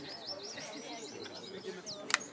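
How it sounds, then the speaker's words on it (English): Tropical birds at Machu Picchu give high, faint, repeated warbling chirps and whistles over soft outdoor ambience, ending with a brief sharp click. "these tropical birds. I hope you can hear them in the audio."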